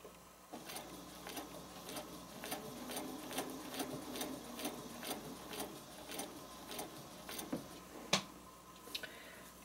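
A sewing machine stitches a spider web project, running in a steady, quiet stream of rapid mechanical ticks for about ten seconds. One sharper click stands out near the end, and nobody talks.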